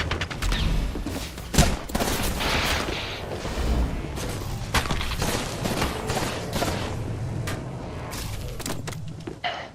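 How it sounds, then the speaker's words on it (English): Dense video-game gunfire on an Xbox Series X, with rapid overlapping shots and bursts from a close firefight running continuously and loudly, a few sharper cracks standing out. "Getting shot at."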